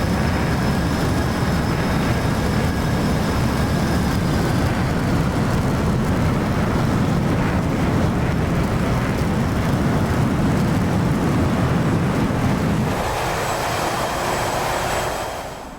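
An F/A-18C jet in the DCS flight simulator climbing just after takeoff: a loud, continuous broadband roar with a faint whine above it that holds steady, then shifts and thins slightly near the end.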